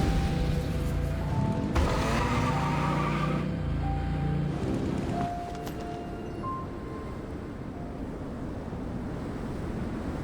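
A vehicle engine at full throttle in Genshin Impact, a loud rising roar and rumble that surges early then settles into a steadier drone with wind-like noise.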